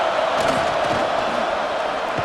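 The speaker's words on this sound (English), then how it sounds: "This crowd still bringing the intensity to open the second half." Stadium crowd roaring steadily throughout a College Football 26 game between Notre Dame and USC at the start of the second half, a dense continuous wall of cheering with occasional shouts rising out of it.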